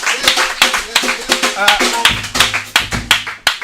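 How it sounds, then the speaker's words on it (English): Audience applause for a theater group at a live Portland show, heard as a string of sharp, fairly close claps in an uneven rhythm, with a voice speaking over part of it. "Round of applause for Joy and Wonder Theater."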